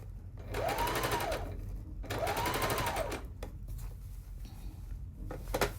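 A sewing machine runs in two sustained bursts as it stitches a lining around a garment's armhole, close and steady, with short pauses and light handling between runs.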